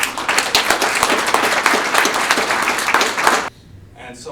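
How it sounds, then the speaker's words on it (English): An audience at a sponsor dinner bursts into sustained, dense clapping for several seconds, loud and close, before it cuts off abruptly and a voice starts speaking. "just another round of applause for Sarah"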